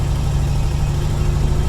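A 1951 Ford Custom with a V8 flathead engine driving in second gear carrying two adults, giving a steady low, even engine rumble heard from inside the car, smooth and unbroken.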